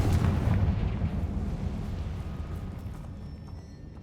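A Confringo blasting spell goes off in the Hogwarts Legacy video game, a heavy booming explosion that hits hard at the start and then rumbles and fades out over a few seconds, with no talking.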